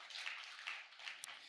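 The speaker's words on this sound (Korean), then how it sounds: "박수 다시 한번 쳐주세요." A church congregation claps together during a Sunday afternoon worship service, a steady, fairly soft wash of many hands slapping with no talking over it.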